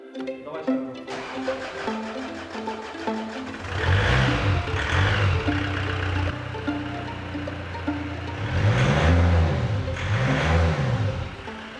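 Nissan Patrol engine revving in repeated swells, rising and falling pitch sweeps loud and close, with some background voices and mechanical noise between the revs.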